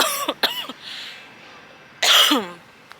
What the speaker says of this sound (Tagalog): nagkakaroon ako ng ubo